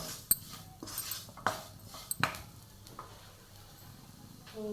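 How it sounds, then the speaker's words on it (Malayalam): Masala for chicken mappas sautéed in a pan, with scattered scraping stirs and soft sizzling, a few sharp utensil clicks against the metal, close and fairly quiet with no talk. "ഇനി ഇത് നന്നായി ഒന്ന് വഴറ്റിയെടുക്കണം ഈ മസാല ഇതിൽ നിന്ന് നന്നായി മൂപ്പിച്ചെടുക്കണം"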